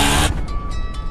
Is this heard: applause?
no